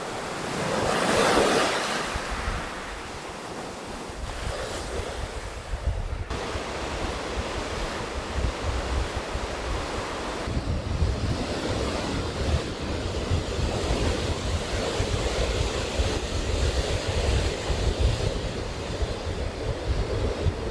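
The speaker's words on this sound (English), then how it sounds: "evening on the beach with my mate Flossie, savoring the changing light, crashing waves, and even a little aurora show" Ocean surf crashing onto a beach at evening, a loud continuous roar of breaking waves with gusty wind buffeting the microphone throughout, swelling and easing without any voices.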